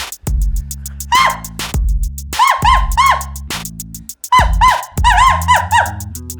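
A person imitates an eastern screech owl call: several short, wavering, descending whistled trills, repeated in clusters with breathy pauses between them.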